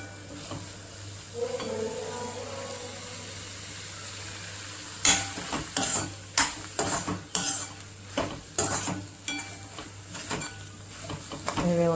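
A spatula scrapes and clinks against a pan while ridge gourd chutney with peanut powder is stirred, a run of sharp rhythmic metallic strokes over a low sizzle, close up, after a quieter stretch.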